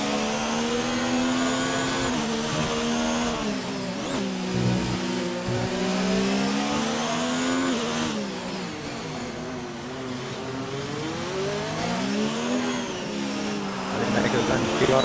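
Onboard race car engine lapping Monaco in a racing video game, a loud sustained whine that rises and falls through gear changes and corners, with commentary running over it throughout.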